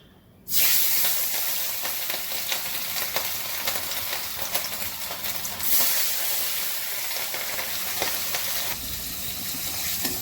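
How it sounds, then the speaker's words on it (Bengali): Fish lightly frying in a pan for a hilsa and eggplant dish breaks into a loud sizzle after a quiet start and then keeps up a steady, close hiss with crackles for the rest of the clip, with no talking. "প্রথমেই মাছগুলো হালকা ভেজে নেব।"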